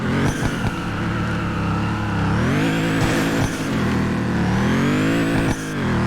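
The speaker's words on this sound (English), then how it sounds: "I'm not as used to drifting the all-wheel drive Integra" An all-wheel drive Integra drifts in a street racing video game, its engine droning steadily and rising and falling in pitch as the revs change, with brief tire and impact noises breaking through.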